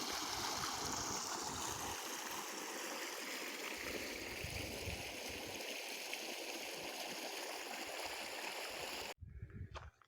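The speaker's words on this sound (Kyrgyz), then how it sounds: "150 миллиметрлик трубада чыгып аткан суу." Water gushing out of a 150 mm pipe feeding an irrigation canal, a steady loud rushing splash that goes on for about nine seconds before it cuts off abruptly into quieter sound.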